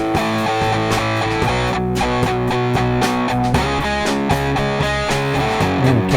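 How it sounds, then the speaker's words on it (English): Music played through the Airwindows Distortion plugin switched on, a loud continuous mix with kick drum and harmonic parts carrying a gritty, saturated edge throughout. "And then we turn distortion on."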